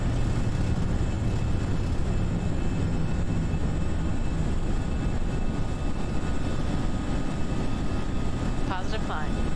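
An FSL A319 jet in the Prepar3D simulator rolls for takeoff and climbs, a loud steady engine roar throughout with a voice speaking over it.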